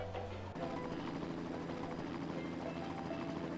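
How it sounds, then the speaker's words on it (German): A helicopter in the video game Go Vacation arrives near an iceberg summit, its rotor whirring in a continuous, even buzz at low volume with no speech. "Da ist der Heli. Helikopter, rufen wir ihn mal."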